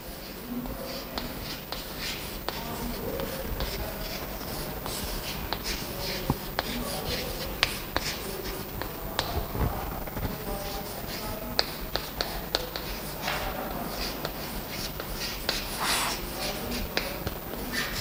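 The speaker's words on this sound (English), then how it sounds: "First I will write down the problem on the board." Marker or chalk writing out an accounting problem on a classroom board, a steady run of scratchy strokes and taps with no speech, set against a constant room hum.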